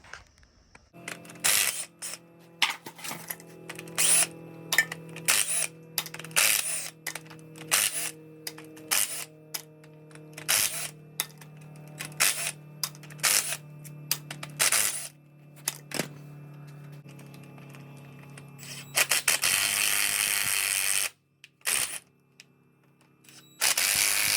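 A hand ratchet loosens bolts on a 5-ton truck differential chunk, giving repeated sharp, close clicking bursts in uneven strokes with short pauses, ending in a louder, rougher stretch of mechanical noise.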